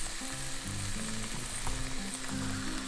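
Halved, fatty chorizo sausages sizzle steadily in a pan over an outdoor campfire in freezing winter conditions, a continuous close, dense crackle with no talking.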